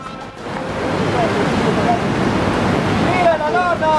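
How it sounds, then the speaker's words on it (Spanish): Strong ocean tide surging onto the shore during a fishing outing, a loud continuous wash of surf with gusty wind buffeting the microphone throughout. "Está muy fuerte la marea."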